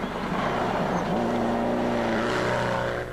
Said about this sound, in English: Well, Patrick, it sounds like that car's down on power